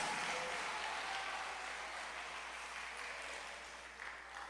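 A church congregation claps together in a dense, sustained burst of applause that eases off slightly toward the end.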